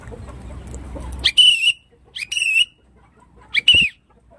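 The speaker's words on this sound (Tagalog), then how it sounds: "Tatawagin muna natin sila ng ating pito para magsilapitan po sila." On a free-range chicken farm, a whistle is blown in three sharp bursts to call the chickens in. The blasts are close and loud with short gaps between them, and faint clucking from the flock comes before them.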